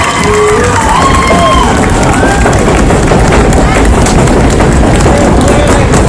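Large outdoor crowd at a Fort Jackson Army family day ceremony clapping and stomping to keep warm, a loud, dense, continuous roar of claps and thuds with cheering and shouting voices mixed in.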